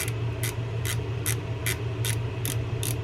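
A fishing reel's free spool pre-tensioner is screwed in, giving about eight evenly spaced ratcheting clicks over steady background noise, with no one talking.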